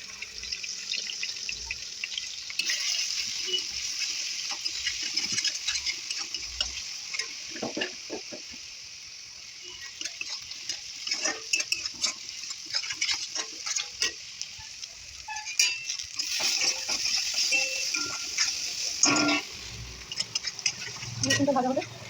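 Garlic frying in a pan, a continuous bright sizzle with scattered clinks and scrapes of stirring, close and moderately loud, with speech heard over it at times.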